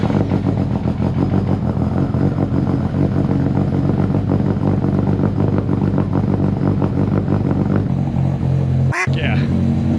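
A car engine runs steadily throughout with a dense, rumbling idle that rises into revving, then shifts in tone near the end, punctuated by a sharp click, after installation of a carbon-fiber driveshaft and transmission cooler.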